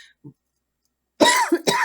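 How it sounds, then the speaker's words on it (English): After a brief quiet, someone coughs twice in quick succession, close and loud. "something's making me cough."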